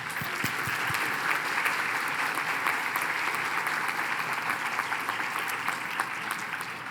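Steady applause rises from the audience at the Agnes Scott College Class of 2021 commencement ceremony, a continuous crowd of clapping hands held at a moderate, even level for several seconds.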